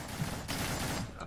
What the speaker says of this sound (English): you're about to hear some gunshots